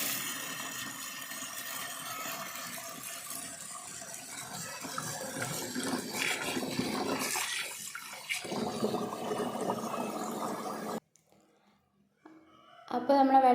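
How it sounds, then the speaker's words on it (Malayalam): Tap water runs steadily into a sink while rice is washed in a home kitchen, a continuous splashing flow that cuts off abruptly near the end before brief clattering returns. "പിന്നെ നമ്മളിനി അരി കഴുകിയെടുത്തിട്ടിടാൻ പോവാം."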